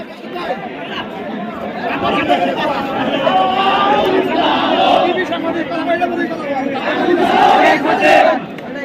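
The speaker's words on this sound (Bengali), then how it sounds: "মাঠে নেমেছে দল বল নির্বিশেষে সরকার পতনের দাবিতেই কিন্তু স্লোগান দিয়ে যাচ্ছে" A large crowd of protesters, including parents, teachers and members of the public, loudly chants slogans demanding the government's fall and Sheikh Hasina's resignation. Rhythmic massed shouting and cries swell and rise in waves, close and dense throughout.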